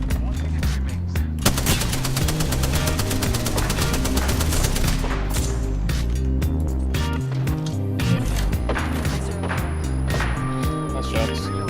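Gunfire in Apex Legends, the Titanfall battle royale, with rapid automatic bursts and sharp single shots, loud and close, over a thumping backing of music.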